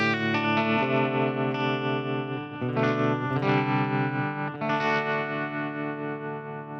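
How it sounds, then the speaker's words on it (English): Guitar runs through a Boss green tremolo pedal model on a Tone Master Pro, sustained chords ringing loud and steady with a pulsing shimmer, changing chord three times. "We'll do just the regular Boss green tremolo pedal"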